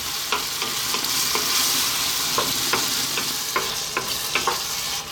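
Sausage pieces sizzle steadily in a pan just above medium heat, with a constant hiss broken by periodic scraping stirs of a utensil, close and fairly loud with no talking.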